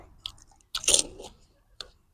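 Pani puri filled with potato being chewed close up, a few soft crunchy bites with a louder burst of crunching in the middle and a last short crunch near the end.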